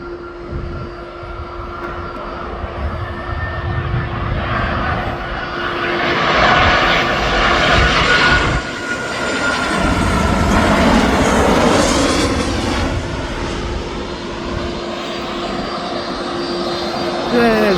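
A TUI jet airliner at Birmingham airport rumbles loudly, its engine roar swelling and fading steadily over several seconds with a constant tonal whine, while a voice talks beneath it.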